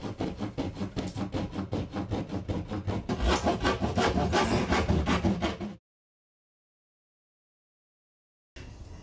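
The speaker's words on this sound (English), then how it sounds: "put your hand in and hold it up while you cut round the perimeter with a pad saw" A pad saw cuts through plasterboard in a ceiling for a loft ladder opening, giving a fast, steady rasping stroke rhythm that grows louder midway, then stops abruptly into silence before a brief resumption.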